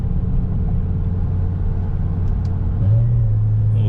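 A BMW M5 engine rumbles steadily and loudly while driving, its low drone rising in pitch near the end as the revs climb; no talking.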